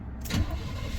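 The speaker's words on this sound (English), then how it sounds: "it's running on its own fuel now" A Chevrolet Impala engine fires up and settles into a low, steady run, close and brief, with no talking.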